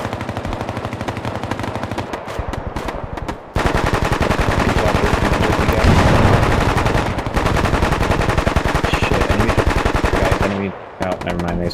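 Machine gun fire in the tactical shooter game Bellum: rapid, loud automatic bursts with short pauses between strings of shots, plus some faint voices underneath.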